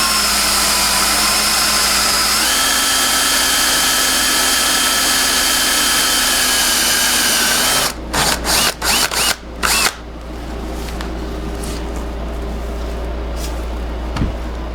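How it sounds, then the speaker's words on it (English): A power drill runs under load for several seconds, steady whine with a pitch step, then a series of short stuttering bursts as the bit pushes through the workpiece, followed by lower ambient hum. "So I just drilled it through till the point came through on the other side"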